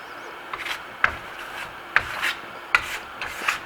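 Trowel sweeping the tight final burnished coat of venetian plaster onto a bathroom sample, close rhythmic scraping strokes with a sharp tick roughly every second as the blade meets the surface.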